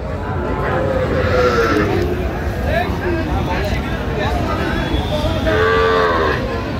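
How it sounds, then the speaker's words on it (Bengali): Several young bulls and heifer calves moo at close range on a farm in Jessore, long drawn-out lows repeating over a steady background of voices and farmyard noise. "আচ্ছা মোমিন ভাই, একটু গরুগুলো দেখান আমাদের।"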